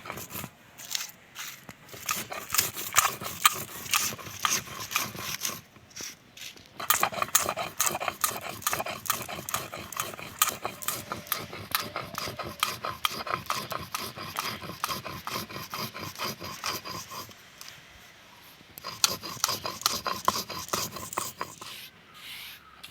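Fried ingredients for banana-flower chops being ground into powder, a fast run of gritty scraping and crunching strokes that keeps up steadily with a few brief pauses, loud and close.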